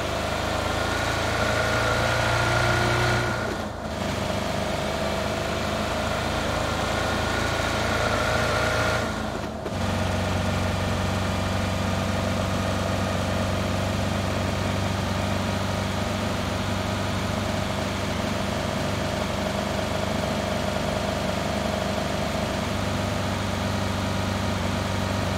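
A car engine idling in the battle royale game PUBG, a steady low rumble that drones on continuously with two brief dropouts near the start.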